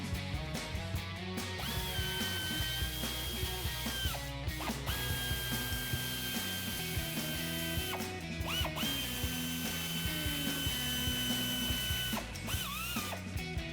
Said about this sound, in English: First step though, we're gonna grab the ratchet 8mm socket. There's 5 bolts we're going to remove in the wheel well right here.